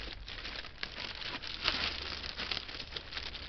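Plastic packaging bags crinkle and rustle close up while a Dynam Grand Cruiser Cessna 310 model plane is unboxed, continuous crackly handling with brief louder crumples.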